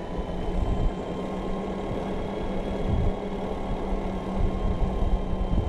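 A 500 watt mid-drive e-bike motor pulls up a hill from a dead stop in second gear on throttle only, giving a steady close whirring hum with faint road noise and no talk.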